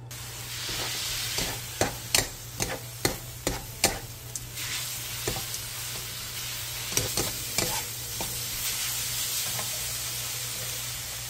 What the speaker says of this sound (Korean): 그 다음 물 3스푼, 소주 1스푼, 진간장 1스푼을 넣고 중불에서 2분 정도 볶아주세요.